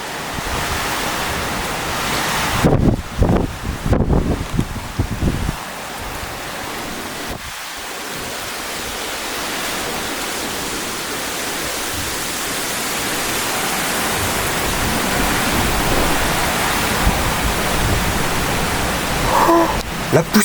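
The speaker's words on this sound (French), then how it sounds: "Ça souffle très très très très fort là." Very strong storm wind, gusting at roughly 75 km/h in Gironde, roars steadily as broadband rushing noise with loud buffeting gusts hitting the microphone early on; a voice speaks briefly over the wind.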